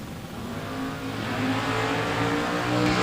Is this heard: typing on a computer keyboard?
no